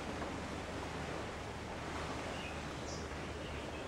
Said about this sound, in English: You can hear the birdsong and the waves lapping in the background.